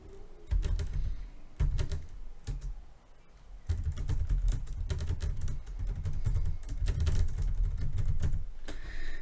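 Rapid keystrokes on a computer keyboard while typing text, close and steady, with short pauses between bursts of clicking and no talking.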